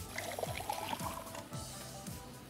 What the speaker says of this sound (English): Go to the sink to fill the pot.